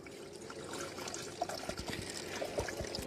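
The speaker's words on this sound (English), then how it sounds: "Okay, so I've got our sugar water here. And we're just going to go ahead and we're just going to fill this up." Sugar water trickling and pouring as a beehive feeder is filled, a steady close liquid stream with small splashes and dribbles throughout.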